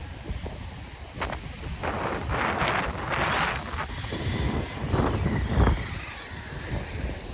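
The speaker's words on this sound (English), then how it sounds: "This is full throttle with the Oucast 6S EXB." An Arrma Outcast 6S EXB RC car runs at full throttle outdoors, its motor surging in loud bursts through heavy wind buffeting on the microphone.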